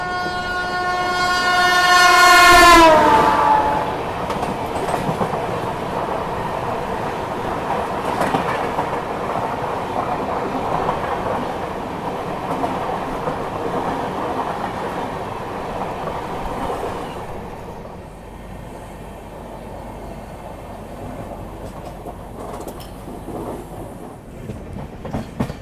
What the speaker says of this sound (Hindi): Malwa crossing Malwa express.